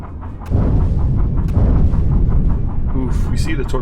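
Depth charges explode in the submarine game UBOAT: a heavy, rumbling barrage of deep booms starts suddenly and rolls on loudly with sharp bursts inside it.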